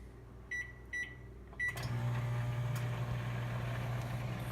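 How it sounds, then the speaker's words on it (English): A microwave oven beeps three times as its buttons are pressed, then starts up with a steady low electrical hum that continues alone. "Now, I'll do the microwave now."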